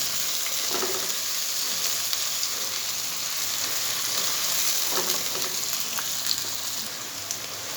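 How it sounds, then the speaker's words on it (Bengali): Garlic frying with onion in a pan for masala chicken, a steady dense sizzle throughout with occasional soft stirring scrapes, close and continuous with no talk. "রসুনটা আমি পেঁয়াজের সাথে ভালো করে ভেজে নেব।"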